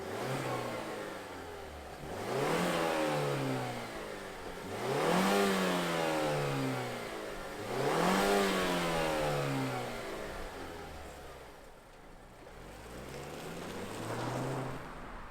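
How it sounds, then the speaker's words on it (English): A 2022 Mazda CX-30 Turbo engine revs hard on throttle four times in a row, each rise in pitch climbing sharply and then falling back toward idle, loud and close with no talking. "Let me show you what this CX-30 Turbo looks like on throttle."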